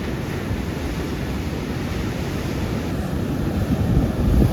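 Continuous heavy roar of rough, stormy sea surf with strong wind buffeting, a steady wash of crashing water swelling slightly toward the end.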